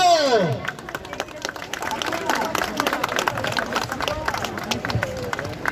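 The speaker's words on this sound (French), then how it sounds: "On applaudit qui a le temps." Outdoor crowd applauding at an Algerian independence anniversary gathering in front of Lyon city hall, a dense scatter of claps throughout, with chatter and voices mixed in.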